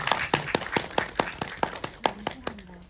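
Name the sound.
audience clapping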